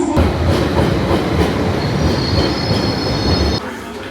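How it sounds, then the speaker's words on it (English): A London Underground Piccadilly line train rumbles and clatters into busy Covent Garden station, wheels squealing with a high screech before it settles to a lower rumble. "so I'm waiting for the next train"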